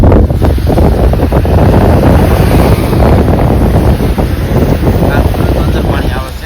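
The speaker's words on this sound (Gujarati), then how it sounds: "બહાર વરસાદ ચાલુ છે તમને બતાવું જુઓ" Heavy rain pounds outside a moving bus on the road to Surat, a dense, steady roar of water and wind noise that stays loud from start to finish.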